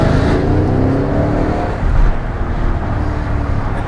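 Mercedes ML 63 AMG engine pulling hard under acceleration, a loud, continuous deep roar with rushing intake noise close inside the cabin, no talk over it.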